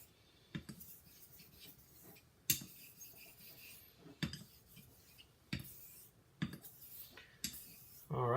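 Straight razor stroked over a Narutaki Imanishi natural stone oiled with camellia oil, quiet scraping sweeps broken by sharper clicks and taps at irregular intervals, close and faint with no talking.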